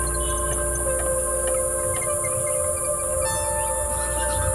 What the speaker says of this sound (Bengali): দেখেছো ঝিঝি আওয়াজ হচ্ছে